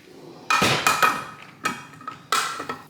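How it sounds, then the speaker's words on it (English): A can of diced tomatoes is opened in a home kitchen, giving a few sharp metallic clicks and scrapes in three short bursts, close and fairly loud, with no talk. "And then I'm gonna open up my diced tomatoes real quick."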